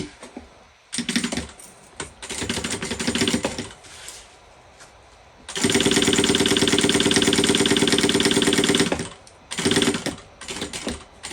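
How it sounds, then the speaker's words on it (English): A sewing machine stitches the zipper pocket of a tote bag in rapid mechanical bursts, with one long steady run in the middle, loud and close with short pauses between runs. "So I'm only sewing the zipper pocket."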